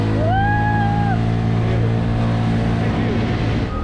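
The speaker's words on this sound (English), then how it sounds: "Let's test this uphill, full throttle." A Vespa scooter strains uphill at full throttle on an old road on Madeira, its engine a loud, steady buzzing drone with heavy wind rumble; a short whistle-like tone cuts through near the start.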